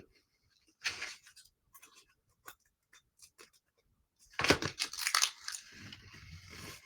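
A knife cutting around the edges of a craft mini pumpkin, scraping and crunching in short strokes with scattered taps, then a longer, louder stretch of rasping cuts close by.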